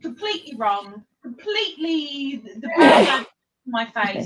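A single loud, sudden human sneeze bursts out in the middle of a person talking, with speech resuming right after it.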